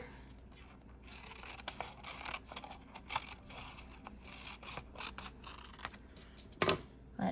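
Paper being trimmed with scissors for a fall leaf craft: quiet, uneven snips and rustling scrapes of the blades against paper, close by, with one sharper snip near the end and no talking.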